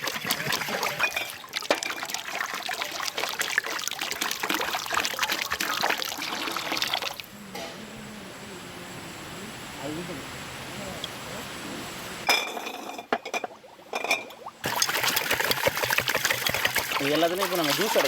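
Fresh village juice made from ginger, lemon, mint and water is poured into containers, with glass clinks and trickling liquid under steady background noise and talk.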